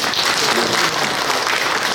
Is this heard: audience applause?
yes